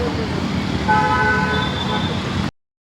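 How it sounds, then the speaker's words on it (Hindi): Busy Sunday road traffic rumbles loudly and close, with a sustained car horn blaring through the middle and a dense wash of engine noise, cutting off abruptly near the end. "तो कितना ट्रैफिक है संडे वाले दिन भी भाई, भर भर के रोड चलती है"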